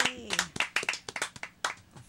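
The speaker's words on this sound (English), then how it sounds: "Let's give her a big round of applause." A small audience claps for a female performer right after her rap song, with scattered, uneven hand claps that start over a brief voice and continue as a short, fairly close burst.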